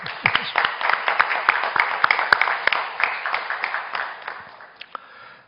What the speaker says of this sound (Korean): 우리 한 마음으로 크게 한 번 더 박수해 주시기를 바랍니다